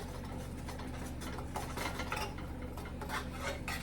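A spoon scrapes and swirls a flour mixture around a pan while making gravy, a continuous close clinking and rubbing over a faint sizzling hiss.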